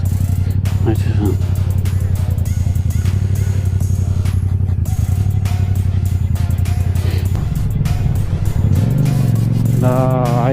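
A Yamaha MT-07 motorcycle engine idles nearby with a steady, throbbing low rumble, then revs up near the end, while people chat over it.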